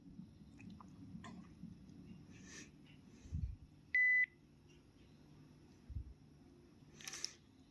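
An old Nokia 6088 mobile phone powering on gives a short, clear electronic beep near the middle, with soft handling knocks and faint room noise around it.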